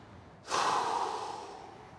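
A person breathes out slowly and steadily while holding a yoga stretch that opens the left obliques, one long, soft, airy exhale that swells quickly and then tapers away, close and alone with no talking.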